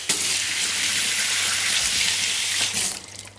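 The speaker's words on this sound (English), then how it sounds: "There's a little bit of mud on this one, so I'm just going to rinse this celery." Muddy celery rinsed under a running kitchen tap, a steady close rush of water splashing into a sink that stops near the end, with no talk.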